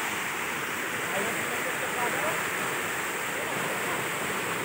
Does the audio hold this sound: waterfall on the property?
yes